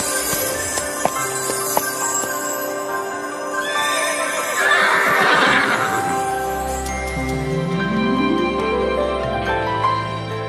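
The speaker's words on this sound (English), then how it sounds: "a world of horses." Horses whinny and neigh loudly over a steady musical backdrop, with a long rising whinny near the end and faint hoof clatter.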